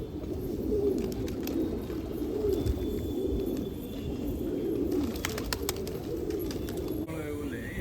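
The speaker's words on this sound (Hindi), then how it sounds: "ये दिल्ली का कबूतर, दिल्ली का कबूतर है।" Delhi pigeons in a rooftop loft in Rohtak coo steadily in a soft, continuous, overlapping chorus over a constant background hum.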